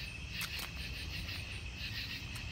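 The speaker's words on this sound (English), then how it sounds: "Literally just us and the crickets and frogs" Steady high-pitched cricket chirping fills the background with a continuous night-time insect drone at an outdoor flea market estate sale, a few brief sharper calls standing out; frogs are also present.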